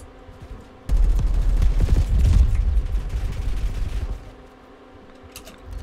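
Black Ops 6 gunfire: a sudden sustained burst of rapid automatic shots lasting about three seconds, loud and dense, then tapering off into quieter game ambience with a few faint clicks.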